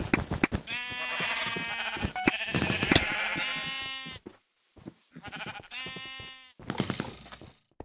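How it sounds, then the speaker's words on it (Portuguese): Minecraft sheep bleat repeatedly in the video game, several loud wavering baas in bursts separated by short pauses, mixed with clicking and tapping. "Tem uma ovelha no spawn."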